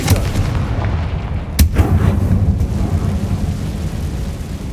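Confringo fire spell blast from the Hogwarts Legacy video game, a sharp loud crack early on over a dense, rumbling booming background of game effects and ambience, with no talking.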